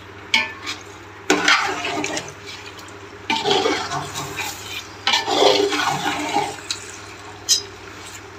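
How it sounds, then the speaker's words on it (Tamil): Chicken sautéing in a pan for biryani, bursts of sizzling and stirring come and go in uneven waves over a low steady hum, with brief scrapes and no talking. "இந்த சிக்கன் வந்து கொஞ்சம் நல்லா பச்சை வாசனை போகிற வரை வதக்கிக்கலாம்."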